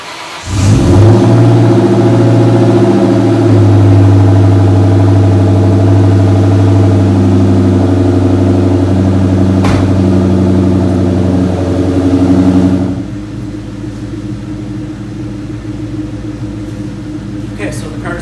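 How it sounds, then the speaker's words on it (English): A Ford Terminator Cobra SVT, a supercharged V8, cranks and fires, then settles into a loud, steady, close idle with a deep rumble. The sound drops to a quieter, smoother idle shortly before the end. "So let's get this car started and warmed up."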